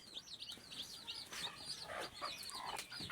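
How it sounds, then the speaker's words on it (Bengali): Newly hatched native chicks peep softly and continuously in a short, faint burst of high chirps, with a few lower clucks mixed in. "আমার 8টা মুরগির বাচ্চা উঠছে"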